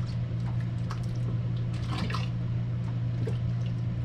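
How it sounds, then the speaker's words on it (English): Store-bought jars are filled for pressure canning, with faint liquid trickles and small drips and clinks over a constant low kitchen hum, close by with no talking. "I'm gonna go ahead and fill the rest of these jars."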